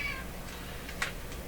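A pet cat meows indoors, a couple of short, fairly soft cries close by against a quiet room, with no talking.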